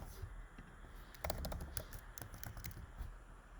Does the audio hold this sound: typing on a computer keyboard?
yes